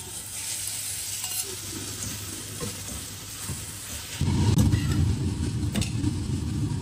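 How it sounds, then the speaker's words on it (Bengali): Chicken frying in mustard oil in a pan gives a steady, close sizzle that swells louder and denser partway through, with stirring noises and a low hum underneath and no talking. "এর ফাঁকে আমি চিকেনটা একটু সরিষার তেলের মধ্যে ভেজে নিব"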